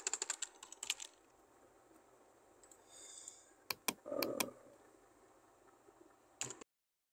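Computer keyboard typing in a word processor, scattered clusters of crisp key clicks with quiet gaps between, faint and close.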